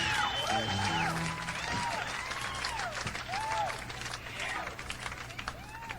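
Enthusiastic crowd applauding at a concert in the Ed Sullivan Theater, a steady dense wash of clapping and cheering with whistles, loud and continuous throughout.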